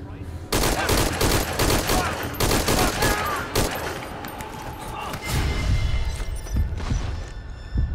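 Rapid bursts of gunfire from the stealth video game Metal Gear Solid V: Ground Zeroes, loud and dense, with shots and heavy thumps packed together and fading slightly in the middle before picking up again.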